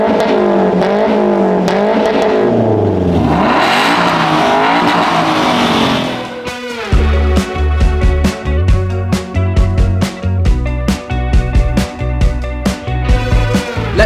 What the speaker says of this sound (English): we then found the perfect place to test our 3 cars' exhaust notes